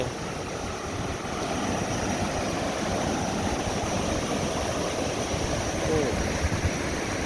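River rapids and a waterfall pour strongly over rocks along a forest stream in Phetchabun, Thailand, making a loud, continuous rushing wash that holds steady throughout.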